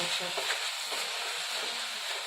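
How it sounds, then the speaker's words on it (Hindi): Amaranth greens with softened tomatoes being mashed and fried with a ladle in a pan over high flame, a steady close hiss of frying under scraping, stirring strokes with no voices. "तेज आंच पे इसको दबाते हुए मैश करेंगे और भूनते जाएंगे।"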